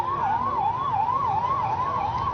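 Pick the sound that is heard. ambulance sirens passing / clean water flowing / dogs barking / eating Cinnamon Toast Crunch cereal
ambulance sirens passing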